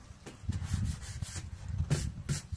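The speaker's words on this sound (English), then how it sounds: "I gotta sand all this inside by hand" Hand sanding the inside of a wooden structure during a house remodel, short back-and-forth strokes, a soft scratchy rasp repeating irregularly at close range, fairly quiet.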